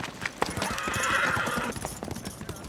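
A horse clip-clops and gallops along with a brief neigh, the hoofbeats loud and close in a Western drama scene, with no talking over them.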